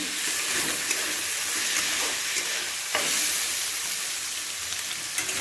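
Gobindobhog rice frying in a pan gives a steady, dense sizzle with light stirring scrapes, close and fairly loud throughout, with no voices.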